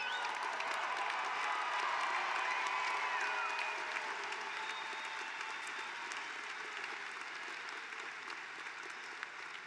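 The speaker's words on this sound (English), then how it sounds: "give another round of applause for all these graduates" Steady, sustained applause from a large commencement crowd honoring graduates, broad and even clapping that tapers off slightly toward the end.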